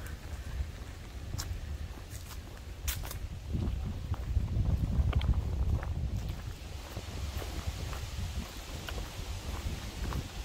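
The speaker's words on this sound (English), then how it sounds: "getting near the shore of the lake, we're going to put up with wind" Wind blows at a lake shore near a picnic area and beach in Maplewood State Park, Minnesota. It makes a low, gusty rumble buffeting the microphone that swells midway, with faint scattered clicks and rustles.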